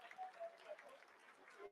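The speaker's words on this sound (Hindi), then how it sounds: "Lot of applause indicates that till now the performance has been nominal." Applause from a crowd in a mission control room during the Chandrayaan-3 lunar landing's vertical descent phase, a steady patter of clapping lasting a couple of seconds at moderate distance, fairly faint.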